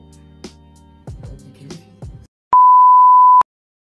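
A talking voice cuts off, followed by a single flat, steady electronic bleep lasting about a second, then silence.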